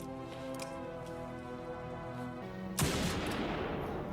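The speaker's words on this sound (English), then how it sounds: "Nice shot with the pistol." A single sharp pistol gunshot from a film soundtrack, a sudden loud crack breaking through sustained tonal music near the end, fairly close and without talk.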